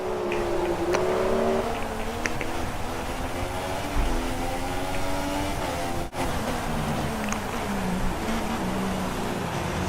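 Formula 1 cars in the F1 2016 racing game on the final lap at Silverstone, engines whining and shifting pitch through corners, a steady loud drone with brief dips and swells.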